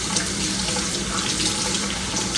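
Tap water runs steadily into a sink while beef tips for pressure canning are rinsed, a loud, close, continuous splashing flow with no talking.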